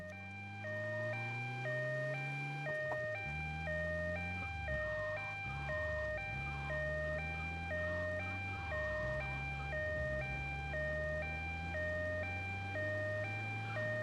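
An ambulance siren in GTA Vice City Stories on PS2 wails in a steady alternating two-tone pattern, repeating evenly over a low, continuous engine drone with no pauses.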